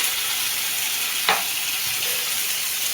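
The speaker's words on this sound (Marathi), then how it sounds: "थोडासा कांदा पण गोल्डन ब्राऊन होऊ द्यायचा आहे." Onion frying in a pan until golden brown, with a steady soft sizzle running throughout and one brief stir or clink near the middle.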